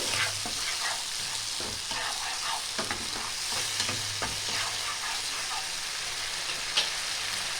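Bhola fish being stirred through a mustard and cumin paste in a pan, giving a steady soft sizzle broken by irregular scraping and stirring strokes, fairly close and even in level throughout, with no voices.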